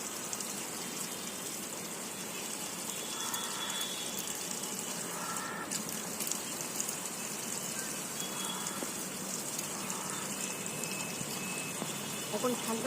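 Steady running tap water pours while hair is rubbed and scrubbed under a cold winter flow, with a continuous gushing wash and faint splashes throughout.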